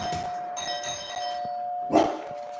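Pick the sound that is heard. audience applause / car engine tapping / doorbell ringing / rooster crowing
doorbell ringing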